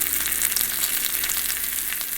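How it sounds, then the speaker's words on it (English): Steady, loud sizzling of quail frying in a hot pan, a constant crackling hiss with no talking. "Now you can hear it sizzling."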